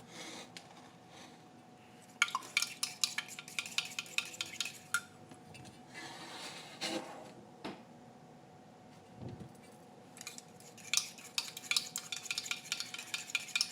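A fork beats eggs for an omelet in a bowl, producing bursts of rapid light clinking and tapping that stop and start, fairly quiet and close, with a pause in the middle.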